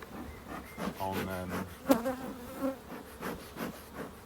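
Honey bees buzz close by, with droning hums rising and fading as insects move around, fairly quiet overall.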